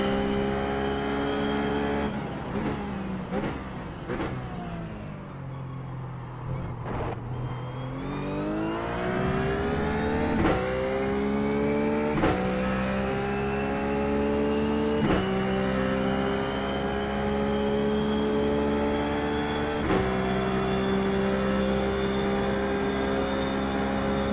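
A RUF GT3 race car in the iRacing simulator at Homestead Miami, its engine droning loud and close, dropping in pitch under braking, then climbing through the revs with repeated gear-shift steps.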